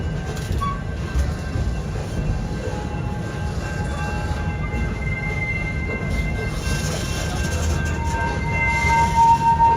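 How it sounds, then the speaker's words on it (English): A ride train at Busch Gardens Tampa Bay rumbles steadily as it rolls slowly into its station, with faint high squeals of wheels on rails toward the end and constant low-end noise throughout. "We are now pulling back into the Nairobi train station."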